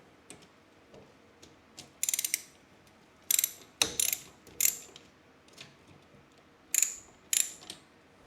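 A ratchet wrench clicks in short, quiet bursts while loosening 11 mm nuts from the cable console of a Vespa PK50XL, with irregular metallic clicks and pauses between them.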